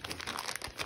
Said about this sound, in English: Your chamois will come in a plastic bag like this, and it's damp.